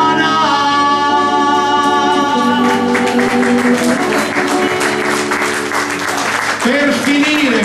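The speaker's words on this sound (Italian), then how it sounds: "applauso che viene rivoltato a voi" Audience applause at an outdoor cultural evening, a steady wash of many hands clapping together, loud and sustained throughout, with sustained musical tones running beneath.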